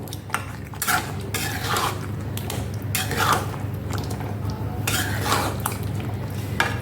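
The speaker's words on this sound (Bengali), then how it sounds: "তো আমি একটু কষতে থাকবো।" Egg potato curry being stirred and sautéed in a pan, with repeated metal spoon scrapes and clinks against the pan in irregular bursts, close and fairly loud over a low background hum.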